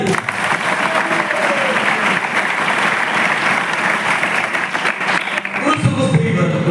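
A loud, continuous crowd applause rises from an audience at a Christian testimony gathering in Odisha, sustained for several seconds before a voice starts speaking near the end.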